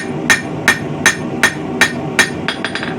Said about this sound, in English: Switching between my crossbeam and my flat side, well, my rounding side of my hammer and my crossbeam.